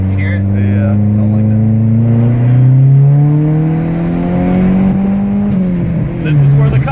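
A Dodge SRT-4 with a new exhaust drives by loud and close, its engine note climbing steadily as it accelerates past, then easing off near the end.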